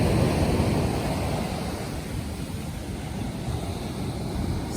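Ocean surf at Umdloti Beach on a calm morning, a steady wash of waves with wind noise across the microphone, no talk.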